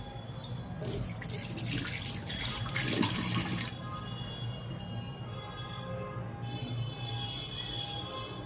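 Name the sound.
washing hands under running tap water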